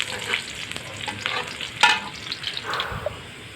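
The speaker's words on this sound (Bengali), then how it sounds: "আমি হালকা পেঁয়াজটাকে হালকা ভেজে নিব, খুব বেশি ভাজবো না" Onion fries lightly in a pan with a soft, close sizzle, broken by scraping and stirring sounds from the utensil, and no talking.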